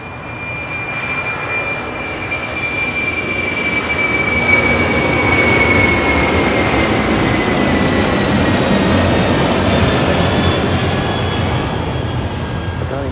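A jet airliner, flight 962 heavy, takes off on runway 25 left at LAX with a loud, steady roar that swells and holds as it climbs away, a thin engine whine riding over the broad rumble.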